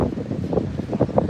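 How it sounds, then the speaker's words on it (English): Strong seafront wind buffets the microphone in gusty, uneven bursts on a New Year's Eve evening walk at Playa de las Américas, loud and close, with no speech. "it's just gone super, super windy"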